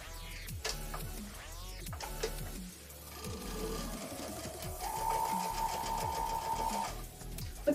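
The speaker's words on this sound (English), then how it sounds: "and sew it back." A sewing machine stitches a quilt block in several short bursts, its motor whirring up and down with quick mechanical needle chatter and brief pauses between runs, close and clear.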